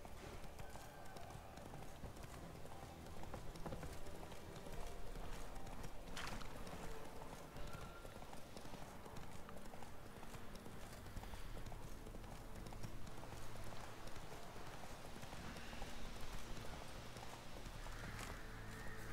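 Horse hooves clip-clop steadily over continuous ambient game noise in The Witcher 3: Wild Hunt, fairly close, with occasional faint other sounds.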